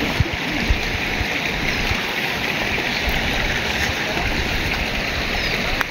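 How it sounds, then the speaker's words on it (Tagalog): Strong floodwater flows across a flooded road in Negros after constant rain. It makes a continuous broadband rushing and splashing roar, steady and close throughout, with no voices over it. "At napakalakas pa ng tubig."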